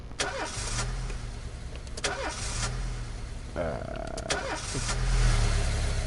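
In the video game This Is The Police, a car engine cranks and turns over several times in succession. Each attempt is a short grinding start followed by a low rumble, loud and close.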